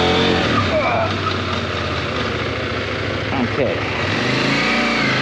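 A CF Moto MT 800 motorcycle brakes hard on its rear brake with ABS working through slight skids, its engine note dropping and pulsing close by, and a brief spoken word partway through.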